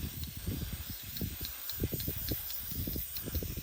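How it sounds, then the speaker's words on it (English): Spray paint hisses from an aerosol can onto a self-healing shooting target, a steady close spray broken into short repeated bursts. "after this, you just give it a good spray"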